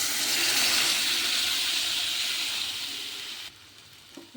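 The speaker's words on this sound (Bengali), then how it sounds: "কষানো হয়ে গেছে, এবার জল দিয়ে দেবো।" Water poured into egg curry masala in a hot pan, a loud steady rushing hiss and sizzle that fades slightly before cutting off abruptly, close up with no voices.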